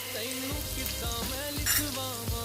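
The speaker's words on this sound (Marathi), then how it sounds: "बारीक चिरलेला कांदा, कांदा आपण लालसर असा भाजून घेणार आहोत." Finely chopped onion frying in a pan until reddish, a steady close sizzle running throughout with occasional stirring scrapes.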